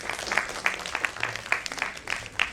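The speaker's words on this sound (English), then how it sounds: "And a big, huge round of applause for all of them and for yourself." Event audience giving a round of applause, a lively patter of many hands with distinct sharp claps popping out irregularly, moderately loud and continuous.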